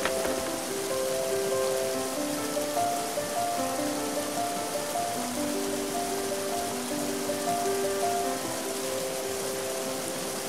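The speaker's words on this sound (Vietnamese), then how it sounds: "Ôi, lại mưa rồi, tớ phải bay đi trú mưa đây" Steady rain falls throughout in a cartoon scene, a dense even hiss of drops on a surface with a soft tonal music bed running beneath.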